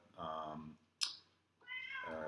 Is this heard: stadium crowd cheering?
no